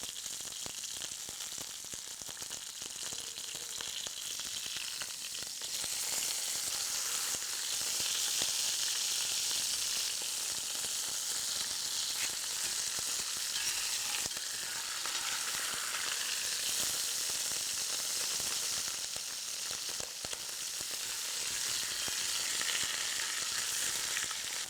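Meat browns in a large pot with a dense, continuous sizzle that holds steady and fairly loud throughout, with faint crackles and no talking.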